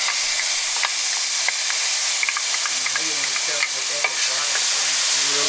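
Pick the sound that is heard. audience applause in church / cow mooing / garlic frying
garlic frying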